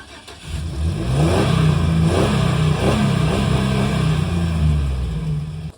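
A Chevy truck's 4.3 L Vortec V6 revs loudly and steadily for several seconds, with a deep rumbling exhaust note close by and no talking.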